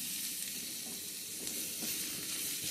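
Mushrooms frying in about three spoons of oil, a dense, even hiss of sizzling that stays close and loud with faint stirring movements, no voices.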